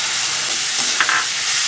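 Raw moong dal with ground spices being sautéed in a hot wok makes a loud, dense, continuous sizzling hiss with a couple of faint utensil clinks, heard up close without speech.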